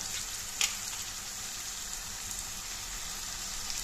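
Cleaned prawns frying in a hot pan for a spiced prawn thokku, a steady close sizzle with a brief sharp crackle near the start.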